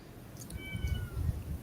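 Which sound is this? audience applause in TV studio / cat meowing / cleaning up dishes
cat meowing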